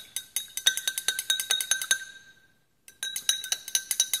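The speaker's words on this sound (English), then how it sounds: "so we'll just stir that up and let it sit for a minute" Glass rod or spoon stirring a lye soap mixture in laboratory glassware, producing rapid, bright, ringing clinks in a steady run, a brief pause, then more clinking, close and moderately loud with no speech.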